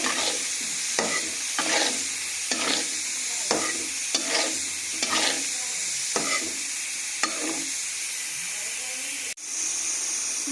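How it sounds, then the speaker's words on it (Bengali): Steady sizzling of spice paste frying in a pan for fish curry, with a spatula scraping through it in regular strokes roughly every second, close and continuous. "এবার মশলাটাকে খুব ভালোভাবে কষিয়ে নেবো"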